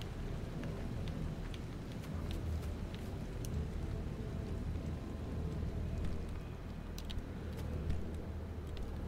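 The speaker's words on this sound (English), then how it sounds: "Time to go, and there's an electrical storm." Rain and thunder from an electrical storm in the driving video game Pacific Drive, a steady dense wash of rainfall with low rumbling underneath and scattered sharp crackles and ticks throughout, no talking.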